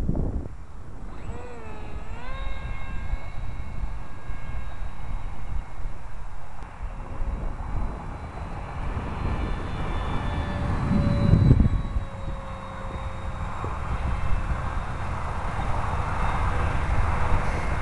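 An Air Hogs Titan small remote-control propeller airplane's engine whines steadily overhead, pitch rising and falling as it passes, with gusty wind noise rumbling across the microphone throughout.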